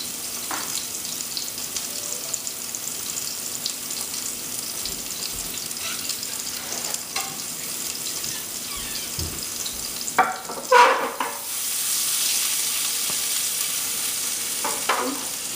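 Meatball kebabs fry in a pan with a steady, fairly loud sizzle and occasional stirring knocks; near the end a brief louder burst of clatter and splashing rises over the constant hiss.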